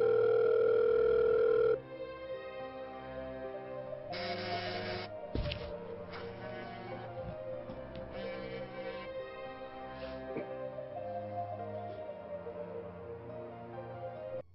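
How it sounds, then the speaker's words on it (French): A telephone rings unanswered, first a loud steady tone, then a long run of repeated electronic ringing bursts that continue unbroken to the end, with no one speaking. "C'est depuis le matin que ton téléphone sonne à vide."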